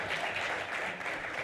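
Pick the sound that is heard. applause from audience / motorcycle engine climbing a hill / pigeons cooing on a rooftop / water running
applause from audience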